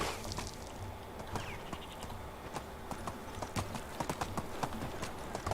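Horse hooves clop in quick, rhythmic beats as a horse gallops in the Medieval Dynasty video game, a steady run of hoofbeats at moderate volume with no voices.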